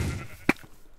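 Sheep bleat in a Minecraft minigame: one short, sharp bleat near the middle, fairly clear over a soft background hiss, with a fainter blip just after.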